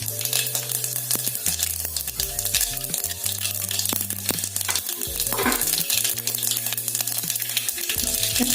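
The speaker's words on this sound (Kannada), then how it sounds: "ನಮ್ಮ ಎಣ್ಣೆ ಸ್ವಲ್ಪ ಬಿಸಿ ಆಗಲಿ. ಇದಕ್ಕೆ ನಾನು ಸ್ವಲ್ಪ ಸಾಸಿವೆ ಹಾಕೊಳಕತ್ತೇನು." Mustard seeds dropped into hot oil in a home kitchen, crackling and sizzling loudly and continuously close by, with clinks and rhythmic tones in the background, no talking.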